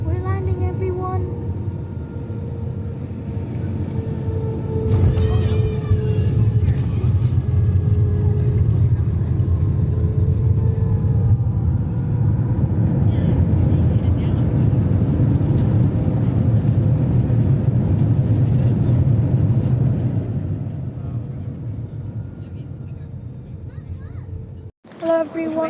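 Airliner cabin during landing at Melbourne Airport: a loud, steady low engine roar with rumble and whine, ending in a sudden drop and some bumps near the end.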